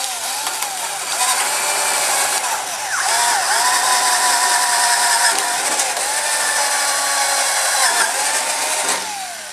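A loud, close power drill whines in bursts while drilling pilot holes, its pitch dipping and rising as it bites, running almost continuously.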